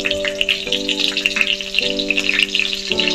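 Black cumin seeds and green chillies tempering in hot oil give off a fine, steady crackle of tiny spatters, heard beneath a sustained melodic background tune.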